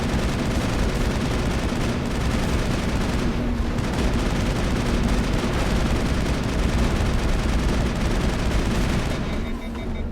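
Sustained gunfire in the video game Mass Effect, a dense, loud barrage of rapid shots running almost unbroken through the whole stretch, with a brief lull near the start and a quieter tail at the end.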